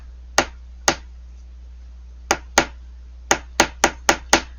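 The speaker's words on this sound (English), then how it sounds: "I'm not hammering too hard." Sharp metallic hammer taps on soft copper wire ring out one by one, a few spaced strikes and then a quicker run of six or so, close and clean against near silence.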